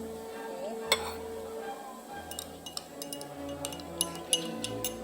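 A spoon stirs lime juice into a drink in a glass, giving one bright clink and then a run of quick, light tinkling taps against the glass, close and fairly clear over a quiet room.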